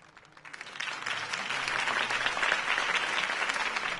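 Crowd applause after a campaign speech in a Batman video game swells from quiet scattered claps into a full, sustained roar of many hands, heard without talk.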